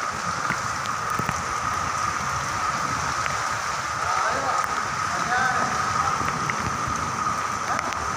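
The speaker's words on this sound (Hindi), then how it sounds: "तो वहाँ बारिश भी कम हो गई।" Rain falls steadily in Karachi after intense heat, a constant close hiss and patter of drops on surfaces that continues throughout, with people talking over it.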